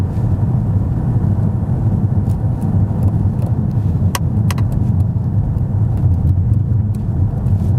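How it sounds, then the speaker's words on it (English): A 2015 Porsche Panamera S eHybrid driving in full electric mode, heard from inside as a steady low road and tyre rumble with no engine note, a few faint clicks and ticks scattered over it. "So right now the car is in full electric mode."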